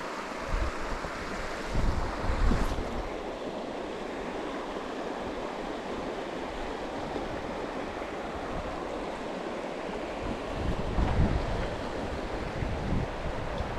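Steady wind rushes across the microphone beside a flowing Adirondacks stream while someone is fly fishing, a continuous broadband roar with slight gusts and no talk.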